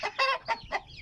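Native domestic chickens give a quick run of four short, sharp clucks close by, sitting clearly above a quiet background.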